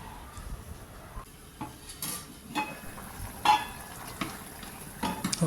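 Country rooster chicken biryani being stirred in a pot, with scattered scraping and clinking of a ladle against metal over a low background hiss, fairly quiet and without talk.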